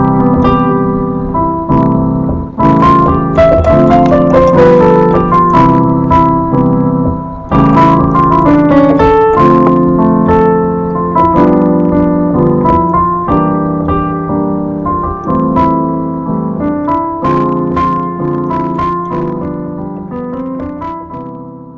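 A saxophone plays a flowing jazz phrase over a ii-V-I progression: loud, close, sustained melodic lines with clear note changes and steady phrasing, played solo with no talking.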